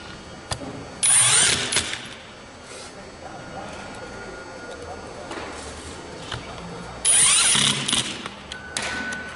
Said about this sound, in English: we're gonna go back to our number two Phillips, and we're gonna drop in these screws